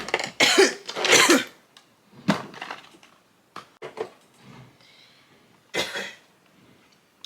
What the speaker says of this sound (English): Sorry, I didn't mean to cough at y'all.